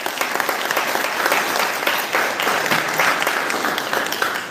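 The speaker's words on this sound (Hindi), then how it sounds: "ताली बजाओ, एरिया ताली।" A church congregation claps together in a dense, continuous round of applause, loud and close, holding steady for several seconds with a faint voice underneath.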